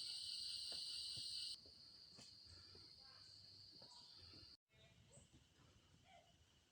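Steady high chirring of forest crickets on a steep mountain trail fills the air, loud at first then softer, with a brief dropout near the end and faint rustling underneath.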